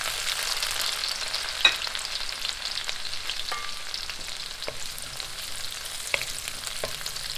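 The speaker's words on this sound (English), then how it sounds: "Then you add the green chilies." Green chilies sizzling in a hot pan after ginger while making dal palak, a faint steady frying hiss with a few soft clicks of stirring, no voices.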